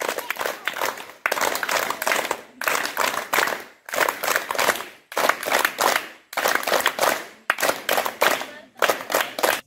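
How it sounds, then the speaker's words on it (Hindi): Children at a school PT performance clap together in unison, sharp synchronized bursts in repeated short phrases separated by brief pauses, loud and close. "अब हम कहेंगे एक साथ ताली बजाना है सबको"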